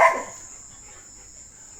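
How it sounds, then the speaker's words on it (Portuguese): A dog barks once at an animal living on the house roof, a single short, fairly close bark that fades quickly against a steady high electronic whine. "a cachorra fica latindo pro bicho."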